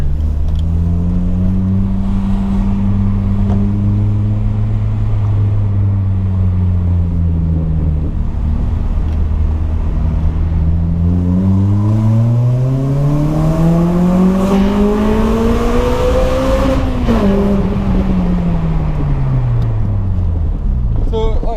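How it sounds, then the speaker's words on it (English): A Honda Civic EP3 Type R fitted with an M2 exhaust drives through an industrial estate, its engine droning low, then revving up through a gear in a rising whine before easing off, loud and heard from inside, with occasional talk over it. "I'll go down a little bit of the industrial estate here where you can actually hear it."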